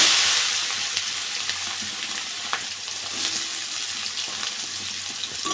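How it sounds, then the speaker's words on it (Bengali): Onion frying in hot oil with whole dried red chillies, bay leaves, cumin seeds and garam masala, giving a steady close sizzle with occasional stirring scrapes and no talk. "পেঁয়াজটা একটু ভেজে নেবো"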